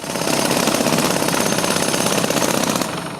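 Road repair machinery on General Svobody Street in Zakarpattia makes a loud, continuous, rapid rattling pound, like a jackhammer breaking pavement, which holds steady and then drops off abruptly near the end.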